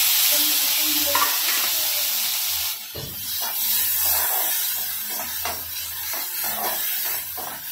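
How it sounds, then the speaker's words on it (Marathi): Onion and tomato fry in a hot pan for egg kadi, giving a steady hiss and sizzle broken by scraping stir strokes and a sharp knock partway through. "आता आपण ह्याच्यामध्ये कांदा टोमॅटो टाकून गरम भाजून घेणार आहोत"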